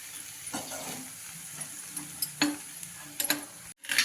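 Paneer and tomatoes sizzle softly in ghee in a pan for paneer bhurji, with a steady quiet fizz broken by several scraping stirs of a spoon.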